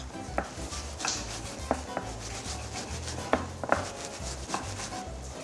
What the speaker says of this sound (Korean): 조금 큼직큼직하게 큐브 스테이크처럼 썰어 준비해주세요